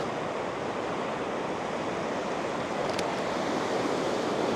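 A fast-moving river in Norway rushes below in a constant, dense roar of churning water, filling the space evenly without a break.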